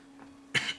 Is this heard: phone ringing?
no